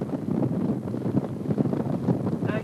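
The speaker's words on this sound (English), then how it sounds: "Very windy." Wind buffets a microphone by the water near a yacht club harbor, a steady loud rumbling roar that gusts throughout with no talk.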